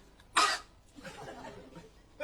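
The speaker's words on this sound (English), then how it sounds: "Cough again." A person gives a single sharp cough close to the microphone, followed by faint murmuring and quiet room sound.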